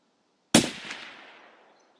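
A single sharp sniper rifle gunshot in a multiplayer shooter game, loud and close, with a long echoing tail that fades over about a second and a half.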